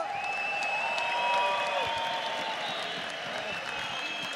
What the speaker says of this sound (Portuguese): Palmas valeu, pra eles!